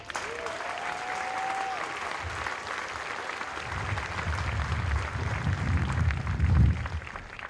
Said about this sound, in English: Please give our MTIs a round of applause.